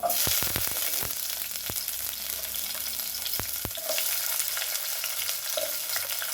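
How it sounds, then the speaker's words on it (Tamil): Shallots and garlic sautéing in oil, a dense continuous sizzle heard up close, punctuated by several sharp clicks and taps of a utensil against the pan, with no voices. "இது பூண்டு வெங்காயம் வதங்க ஆரம்பிச்சிச்சு"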